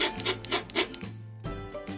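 A scraper drags across a surface in quick rhythmic strokes, close and fairly soft, with a brief pause before the scraping resumes.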